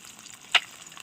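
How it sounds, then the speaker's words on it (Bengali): Fish fries in hot oil in a pan, a faint steady sizzle with one brief sharp crackle or clink midway, no voices. "মাছটা ভাজা হয়ে গেছে,"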